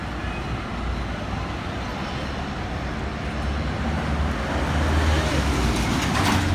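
Dense, steady roar of traffic on a busy Dhaka road in the morning, a continuous low rumble of engines that swells slightly louder toward the end.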